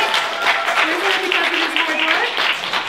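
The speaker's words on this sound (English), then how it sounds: "Please, round of applause." An audience at a violin recital gives a short, steady round of applause for the director of the Rockland School of Violin. The dense clapping runs evenly throughout, with a few voices underneath.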